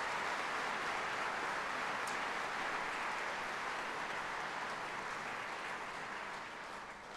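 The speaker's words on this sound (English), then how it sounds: "could we give them a round of applause?" A graduation audience for Bath Spa University's School of Education applauds in a dense, steady roar of clapping that holds for about seven seconds and tapers slightly at the end.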